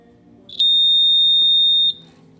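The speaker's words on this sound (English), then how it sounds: "we got our alarm going" A single piercing electronic alarm beep sounds for over a second, loud and steady, against a low background hum, while setting ignition timing on a Honda CB160 motorcycle.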